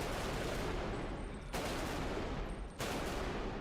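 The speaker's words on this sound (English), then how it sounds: "Fire inside a tiny bathroom." Dense, continuous gunfire roars inside a tiny bathroom in the video game Bodycam, loud and close, with heavy bass and pressure and two brief dips in the barrage.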